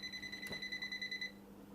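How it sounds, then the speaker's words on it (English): A TOOLTOP ET32 breaker finder emits a steady, fast electronic beeping, fairly faint, that cuts off abruptly partway through and leaves quiet room noise. "It stops beeping when I turn off the breaker."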